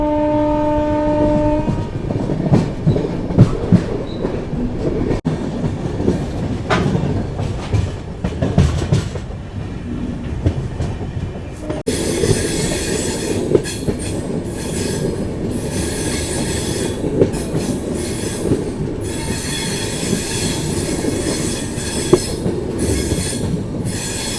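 Inside a first AC coupe coach of the Rani Chennamma Express on Indian Railways, the train rumbles along steadily with rhythmic wheel clatter, squealing wheels and a horn sounding, continuous and loud with no talking.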